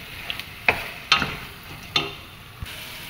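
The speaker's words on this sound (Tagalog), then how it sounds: "At maglagay natin ng ating garam masala. Kaunti lang kasi may mga spicy na tayo na hindi powder. Ayan, mix lang natin." Chicken biryani with garam masala being stirred in a frying pan: four distinct scraping, clinking strokes of a utensil at uneven intervals, close and clear over a faint sizzle, with no talking.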